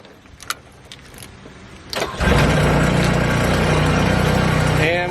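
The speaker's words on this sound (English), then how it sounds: "we have to start the engine up" A JAPA 405 firewood processor's diesel engine cranks briefly after quiet handling noises, then catches and settles into a loud, steady mid-pitched idle that runs on to the end.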